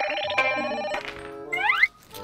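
A telephone rings while a call is placed in a Thai drama scene: close, clear electronic ringtone tones in short melodic bursts that cut off abruptly, with no talk.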